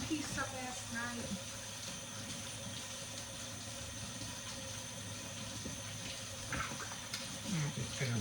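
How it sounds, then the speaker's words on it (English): Tap water runs steadily while a bowl is rinsed in a sink, a close continuous splash with a few clinks, and a voice talks briefly at the start and end. "I'm just gonna rinse it out."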